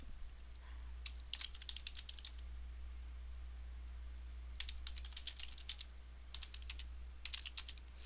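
Quiet bursts of rapid keyboard typing, with clicky keystrokes in short runs separated by brief pauses.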